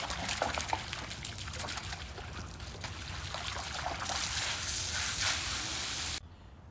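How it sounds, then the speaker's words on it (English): Water splashes steadily over a freshly scrubbed swimming pool during rinsing, a continuous broadband wash that swells louder near the end before cutting off abruptly. "now that I finished scrubbing, I'm just gonna rinse it all off."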